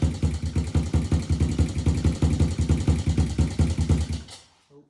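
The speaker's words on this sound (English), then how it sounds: "we'll have to turn that idle up a little bit" A Honda TRX 90 ATV engine idles close by with a rough, pulsing putter that fades out as it stalls at the end.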